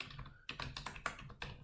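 Keystrokes on a computer keyboard while entering code, a quick run of sharp, close clicks in an uneven rhythm after a brief pause, with no talking.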